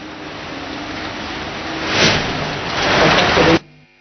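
Steady broadband rain hiss in Delhi, falling continuously and fairly loud with a brief swell midway, before cutting off abruptly near the end.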